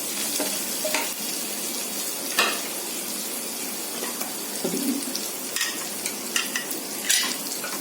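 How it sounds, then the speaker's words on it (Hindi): Chopped green chilies frying in ginger garlic paste over low flame, a close, steady sizzle broken by several stirring scrapes and clicks. "मेरा जिंजर गार्लिक पेस्ट फ्राई हो गया है। इसमें मैं 3 ग्रीन चिलीज डाल रही हूँ चॉप करके।"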